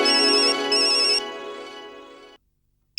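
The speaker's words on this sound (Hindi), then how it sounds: "जयपुर से मधुमक्खी का फोन" An electronic telephone ringtone plays a bright, repeating tone that cuts out, trails off into a fading ring, stops, and briefly starts again at the end.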